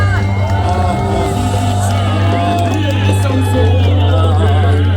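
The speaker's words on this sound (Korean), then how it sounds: "여러분 큰 함성과 박수 부탁드립니다." A big outdoor crowd roars and cheers at a Korean political rally, loud and continuous with a steady low hum underneath and scattered voices shouting through the din.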